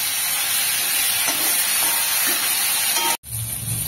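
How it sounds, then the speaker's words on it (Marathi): Cauliflower sautéing in a hot pan for a Marathi dhaba-style bhaji, a loud, steady sizzling hiss that runs unbroken, drops out sharply for an instant, then resumes slightly quieter. "एक 5 ते 7 मिनिटांसाठी ही आपल्याला फ्लावर परतून घ्यायचे आहे"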